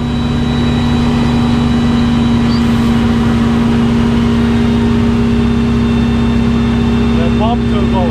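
A fire truck's fire pump engine runs hard at a steady, loud, unbroken drone with a strong low hum, close by.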